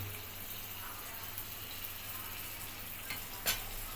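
Mother's Bengali fish curry (macher tel) frying in a pan, a steady sizzle and bubble throughout with faint clinks of stirring near the end.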